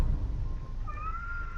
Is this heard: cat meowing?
yes